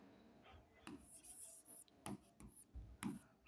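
Pen scratching across paper during a Class 10 maths lesson, quiet short strokes and taps in brief bursts against a faint room background, with no talking.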